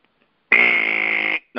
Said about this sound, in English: That was a great buzzer, Jedd.